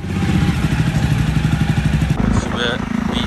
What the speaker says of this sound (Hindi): Bike start.